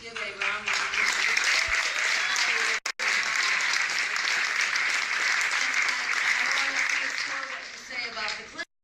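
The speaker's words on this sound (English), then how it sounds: "Can we please give a round of applause?" A crowd at a political rally applauds steadily for several seconds, thick continuous clapping with a few faint voices calling out over it, then a brief cutoff near the end.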